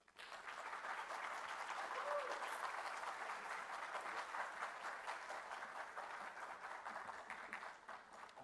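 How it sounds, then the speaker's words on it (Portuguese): A federal deputy is welcomed with steady applause in a Brazilian conference auditorium. The clapping sounds faint and distant but holds evenly throughout. "Recebemos agora também para a nossa abertura, nesse segundo dia de agenda, o deputado federal Luiz Carlos Mota, com uma salva de palmas."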